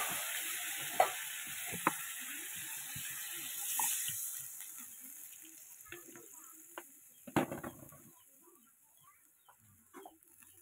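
Water is poured into a hot pan and bursts into a loud, bright sizzle that slowly fades into softer bubbling. Scattered clicks and a few faint background noises come through over about ten seconds.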